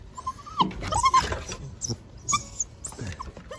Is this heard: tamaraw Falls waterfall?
no